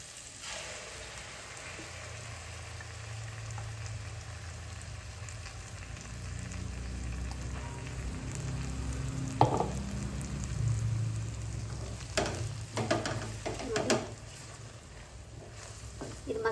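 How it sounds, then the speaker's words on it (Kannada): Masala sizzling in hot tempering oil in a home kitchen, a steady crackling fry that continues throughout, with a few clinks of utensils and stirring near the end. "ಇದು ಮಸಾಲೆನ ಸ್ವಲ್ಪ ಒಗ್ಗರಣೆ ಒಳಗೆ ನೀಟಾಗಿ ಹುರ್ಕೋಬೇಕು"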